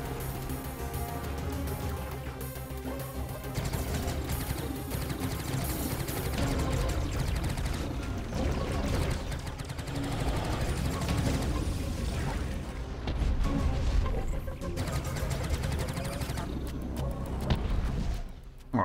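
Dense, rumbling battle sounds from the video game Starlink: Battle For Atlas, with repeated heavy cannon booms and mechanical clatter, continuous and loud throughout.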